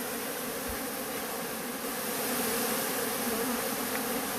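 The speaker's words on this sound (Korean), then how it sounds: "벌들까지 다 냄새 맡고 이쪽으로 막 몰려와서 같이 막 총 공격을 합니다." Dense, loud buzzing of many honeybees swarming and attacking fills the air without pause, an intense swarming drone with no talking.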